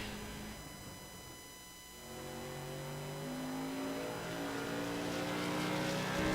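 An outlaw modified race car from a racing video game lapping the half-mile Stafford Motor Speedway, a steady engine drone with rising, whining pitch as it accelerates, continuous and fairly loud with no talk.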